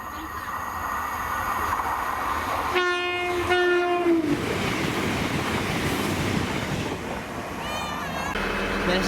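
CrossCountry train 221132, a Plymouth to Aberdeen service, passes through Monifeith with a loud rumbling roar, its horn sounding in two short tones before the heavy rush of the train going by, close and continuous.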